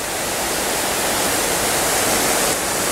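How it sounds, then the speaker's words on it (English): Small man-made waterfall at a mosque in Sharm El Sheikh, a steady, loud rush of falling water filling the whole clip with broad, even hiss and no talk over it. "Let's just check this little man-made waterfall out."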